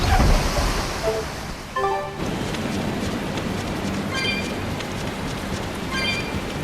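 Steady rushing wash of waves and sea spray as a scout ship sets sail in Tales of Berseria, with faint chiming game tones over the continuous surf.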